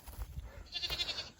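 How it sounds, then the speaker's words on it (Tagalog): Goats on a farm bleat in a short burst, a couple of nasal calls close by over low rumbling background noise, with no talking. "Kukunin na natin ang ating mga kambing."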